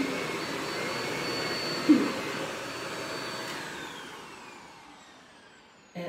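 A vacuum cleaner runs steadily over carpet with a close, continuous drone and a brief bump, then winds down and fades toward the end.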